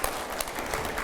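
Audience in a TV news studio bursting into steady applause, dense continuous clapping close to the microphone with a faint voice underneath.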